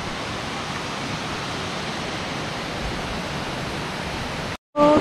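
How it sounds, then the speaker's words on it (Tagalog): Pinsal Falls in Santa Maria, Ilocos Sur pours as a steady, dense rush of water that stays even throughout and cuts off abruptly near the end. "So, ayan ang kanyang falls."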